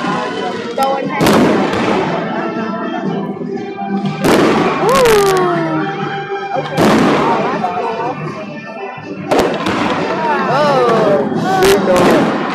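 Glimmer fireworks go off outdoors with loud booming bursts followed by crackling, shimmering trails, several in a row, while spectators talk and react in the background.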